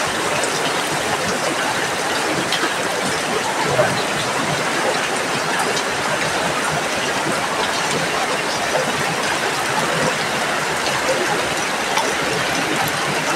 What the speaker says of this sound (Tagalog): Kahit lakas ang ulan, kayang-kayang sumugod sa gitna ng ulan.